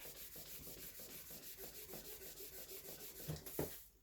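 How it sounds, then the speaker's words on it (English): A Mr. Clean magic eraser is rubbed back and forth over a surface in soft, rhythmic strokes, faint and close, with a few firmer scrubs near the end. "So I'm just going to now wipe it down with my little Mr. Clean eraser."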